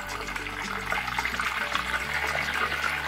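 Halloumi chips frying in a batch of hot oil, a steady dense hiss and crackle of bubbling fat, loud and continuous with no talk over it.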